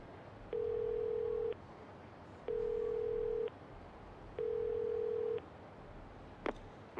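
A payphone call rings through the earpiece in the video game Yakuza 0, three even one-second ringback tones spaced about two seconds apart over a quiet background, followed by a faint click.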